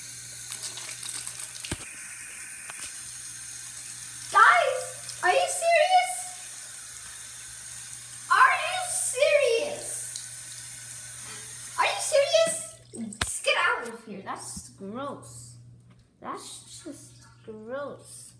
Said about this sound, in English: Does he have to hit us with water?